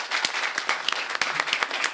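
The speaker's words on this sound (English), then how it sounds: "big clap for that" An audience at a school board meeting gives a short burst of clapping, a moderate, even patter of many hands with a few sharper individual claps.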